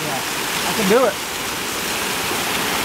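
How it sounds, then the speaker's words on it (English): A waterfall rushes in a steady, dense roar from start to finish, close and loud, with a person briefly speaking over it. "I love waterfalls. I want to climb up it."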